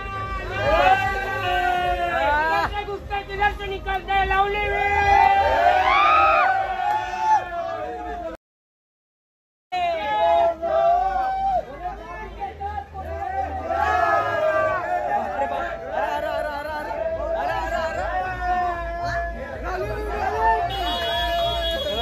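A crowd gathers at a Ganpati arrival procession in Sion with a live musical group. Loud voices, shouts and chatter mix with tonal music, steady and close, with one brief dropout.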